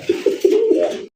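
A tiger-coloured gola pigeon coos close by: a short, throaty call of a few quick pulses running into a longer rolling coo, heard alone.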